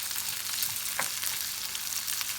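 Peppers sautéing in a pan for a Turkish dried-pepper dish with lor cheese, a steady soft sizzle with faint stirring scrapes, heard alone at low level.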